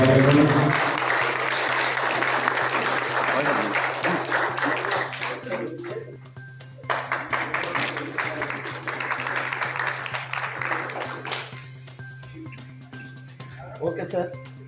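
A crowd at a flower-offering ceremony claps in two long rounds of dense applause, with a pause between them and a few stray claps at the end, while people speak over it.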